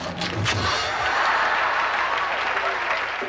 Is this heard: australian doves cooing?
no